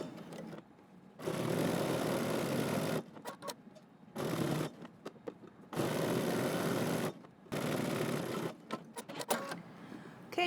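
A sewing machine runs in several sustained bursts, stitching a trouser waistband facing with back stitching at start and end, close and steady, separated by short pauses.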